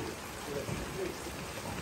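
Rain falls during outdoor cooking, an even, close hiss of drops on surfaces that runs without a break.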